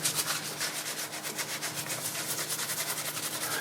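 A surface being rubbed to strip paint that has turned to a muddy residue, a close, steady scrubbing with quick regular back-and-forth strokes and no voices.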